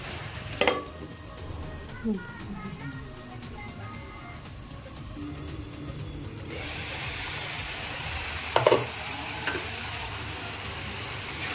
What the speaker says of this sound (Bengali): হাই হিটে অল্প কিছুক্ষণ চিকেনটাকে নাড়াচাড়া করে নিলাম।